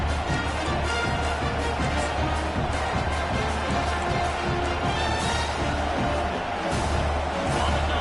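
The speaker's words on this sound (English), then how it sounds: "They challenge this crowd to bring the energy, and I'd say they're doing that." Crowd at a college football stadium roaring steadily through a game broadcast, a dense, continuous wash of cheering and noise that never lets up.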